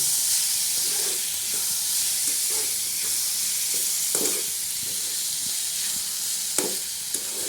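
Chopped tomatoes sauté in a pan for a dry Malvani small-shrimp dish, a steady hissing sizzle with soft intermittent stirring scrapes and a couple of sharper knocks, close and unaccompanied by talk.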